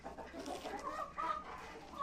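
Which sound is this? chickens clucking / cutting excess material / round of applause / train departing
chickens clucking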